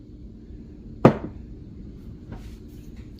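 Espresso coffee grounds are tamped into a portafilter with one sharp knock, then a fainter second tap, over a low steady hum.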